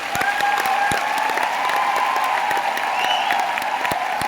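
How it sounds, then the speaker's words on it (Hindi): Loud, sustained applause from a crowd at a Crown Diamond celebration in a hall, continuous dense clapping with faint cheering and voices mixed in. "जवानों वाली ताली हो जाओ सर,"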